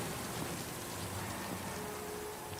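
Rain in the Silent Hill 2 Remake trailer, a dense, steady hiss of falling rain spattering on surfaces, constant and fairly loud throughout with no speech.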